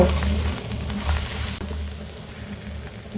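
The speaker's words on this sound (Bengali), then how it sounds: "এখন মশলাটাকে সুন্দরভাবে নেড়ে চেড়ে ভেজে নেব" Spice paste of ground ginger, garlic, chili powder, turmeric, coriander powder and salt frying in a pan for an eggplant dish, a steady close crackling sizzle with light stirring scrapes throughout.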